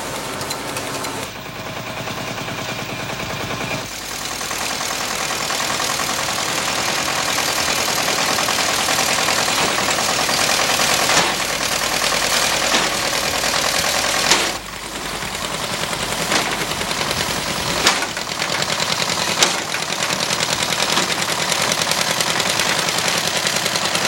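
An Allis-Chalmers tractor engine runs loud and steady throughout, a dense rough mechanical roar with brief dips, no voices over it.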